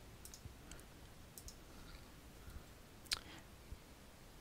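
A single soft mouse click, with a couple of fainter clicks around it, over a quiet hiss.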